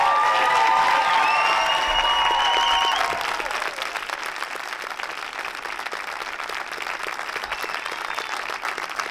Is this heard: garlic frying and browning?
no